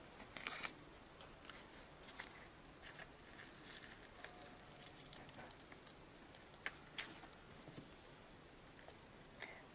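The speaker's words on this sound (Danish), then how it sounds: "Og så klipper jeg den rundt her." Scissors cut around an adhesive patch, making soft, quiet snips and crisp little clicks scattered irregularly over several seconds, close by, with faint rustling and no talking.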